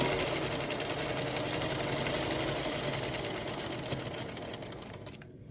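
A sewing machine stitches pieced quilt block fabric, starting at a corner, with a steady fast mechanical whir running close and loud throughout before stopping abruptly at the end.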